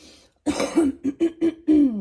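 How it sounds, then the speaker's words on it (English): A person clears their throat several times in a row, a harsh voiced rasp followed by a few short, close, forceful bursts. "let me clear my throat"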